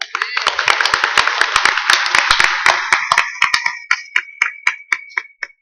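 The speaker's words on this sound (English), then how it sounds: "I would definitely want to give a big round of applause for Dave Lamb" A round of applause at a summit, a dense crowd of clapping hands that thins out into a few scattered, separate claps near the end.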